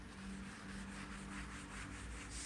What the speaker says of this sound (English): we're just going to kind of scuff this panel up real quick